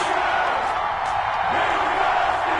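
A stadium crowd roars and cheers steadily in a Madden NFL game before a Cincinnati Bengals versus Pittsburgh Steelers matchup, a dense continuous wall of noise with a few whoops rising out of it.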